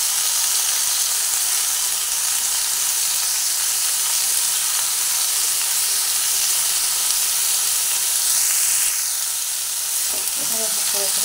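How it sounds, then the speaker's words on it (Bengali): Bitter gourd (kakrol) pieces frying in oil with turmeric and salt: steady, loud close sizzle and hiss throughout, with a few light clinks of a spatula near the end. "এভাবে করে করে কাঁকরোল ভালো করে ভেজে নিচ্ছি।"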